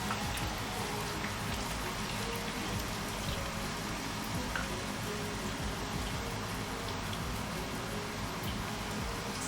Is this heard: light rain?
yes